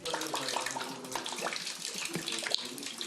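Water leaks down a riser into a flooded apartment in a Kyiv building damaged by an attack, a steady splashing and trickling rush with drips over it, close and continuous with no talk.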